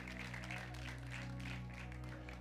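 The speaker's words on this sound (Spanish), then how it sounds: "Denle un aplauso al Rey de Reyes." A Spanish-speaking church congregation claps for the King of Kings during a stewardship sermon. The faint, dense applause is heard over a steady low musical hum, with no clear voices.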